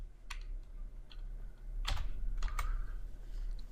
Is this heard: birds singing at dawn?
no